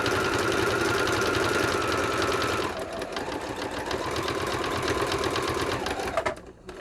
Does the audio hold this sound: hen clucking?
no